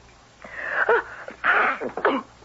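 A few close, sharp sneezes in quick succession, breathy and explosive, alone without talk, in a dusty room.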